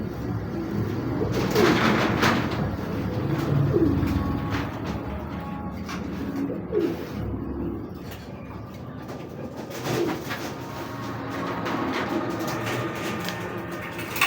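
Racing pigeons, including saddle pied birds, coo repeatedly in a loft, with soft throaty calls rising and falling close by against a steady low background rumble.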